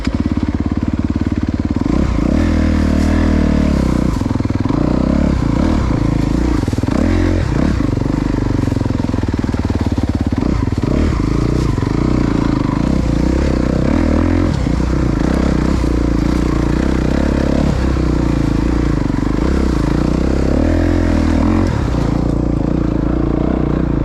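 Honda CRF250RX dirt bike ridden off-road over tree crossings, its engine loud and close throughout with repeated revving bursts, sputters and clattering scrapes as it struggles over obstacles, no talk.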